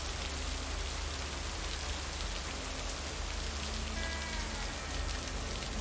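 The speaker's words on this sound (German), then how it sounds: "das sieht richtig cool aus hier mit dem Regen" Rain in the video game Lake falls as a continuous, even hiss of drops on surfaces, with no speech, steady throughout and filling the whole scene.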